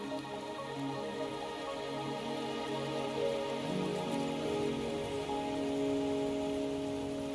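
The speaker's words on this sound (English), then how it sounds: "Are you trapped here by the rain?" Steady rain falling in the video game Wuthering Waves, a soft continuous patter under a sustained musical drone, with no voices.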